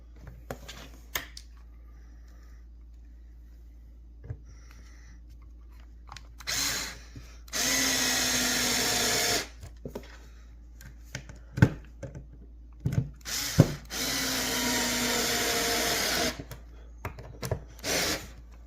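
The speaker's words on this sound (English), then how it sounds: "And then you like the little 4-volt Ryobi screwdriver? USB, huh?" Small Ryobi 4-volt USB screwdriver driving screws into pre-drilled holes in kitchen cabinetry: two sustained, loud motor whirs each lasting a couple of seconds, separated and followed by clicks, knocks and handling noises nearby.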